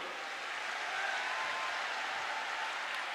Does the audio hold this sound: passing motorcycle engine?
no